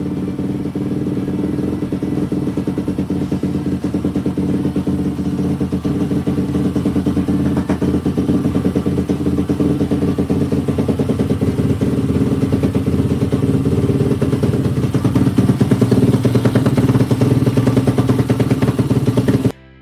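Daytona 190 cc motorcycle engine bored to 212 cc with a prepared cylinder head, idling with a loud, steady, close-up chugging rumble that holds evenly throughout.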